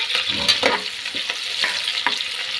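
Four green chillies fry in a pan for chicken biryani. A close, steady sizzle runs throughout, broken by repeated stirring scrapes.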